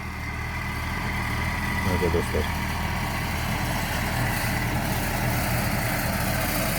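A 904 tractor engine idles outdoors with a steady low rumble throughout, while someone briefly speaks over it.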